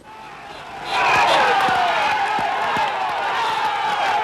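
Roadside crowd at a 1999 Vuelta a España cycling stage in the Basque country, a rising roar of cheering, shouting and clapping that swells after a second and stays loud, with a few sharp bangs.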